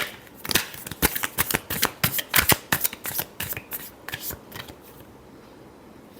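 A deck of tarot cards is shuffled close up, a rapid series of sharp riffling snaps and flutters that thin out and stop before a final tap, with no voices.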